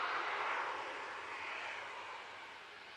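An airliner rolling past at Manchester Airport, a broad steady engine roar at moderate distance that slowly fades over a few seconds, no voices.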